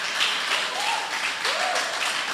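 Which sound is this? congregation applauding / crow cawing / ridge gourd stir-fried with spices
congregation applauding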